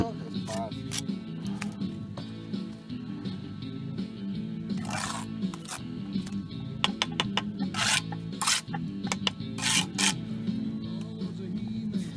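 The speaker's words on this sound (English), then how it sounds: "whenever he flings his trowel, the mortar falls on the board" A steel trowel scrapes and slaps wet mortar on a mortar board while a brick foundation is laid under a mobile home. Repeated rasping scrapes and sharp knocks come close by, with people talking over them.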